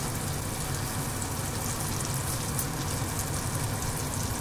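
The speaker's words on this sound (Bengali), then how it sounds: "বেগুনগুলো ছেড়ে আমি ভাজা করে নিচ্ছি।" Eggplant pieces frying in hot oil with black cumin, turmeric and salt, a steady dense sizzle and crackle that continues evenly throughout with no voices.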